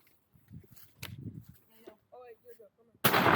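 A single sharp rifle-like gunshot bursts out loudly at the end, preceded by a faint crack amid casual outdoor talk from people nearby at a country birthday gathering.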